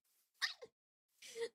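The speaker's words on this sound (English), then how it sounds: "Sorry for sneezing in your ear." A single close, quiet sneeze with a sharp burst and a brief trailing tail, then a short breathy follow-up sound, set against near silence.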